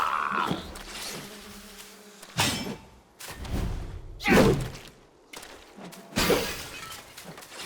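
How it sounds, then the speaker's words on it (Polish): In the video game Black Myth: Wukong, bells are smashed with a series of loud, crisp shattering crashes spaced a second or two apart, with heavy thuds and game ambience between them. "Te dzwonuszki trzeba rozbijać."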